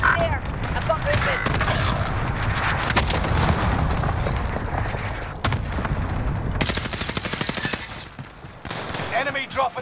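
Rapid automatic gunfire and sharp shots crackle in bursts from a Call of Duty: Modern Warfare match, loud and dense, with explosive booms and a harsh clattering stretch near the end.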